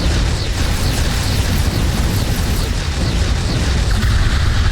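A missile blast in the space game X4 Foundations, a loud, dense and sustained rumbling roar that fills the whole stretch with no clear break.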